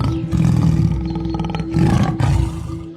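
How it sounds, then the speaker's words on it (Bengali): Tigers roar loudly in a horror story set in the Sundarbans, where a giant snake blocks their path; deep, sustained growling roars swell in two or three surges across the whole stretch, close and dramatic with no talk. "বাঘগুলো পালাতে না পেরে"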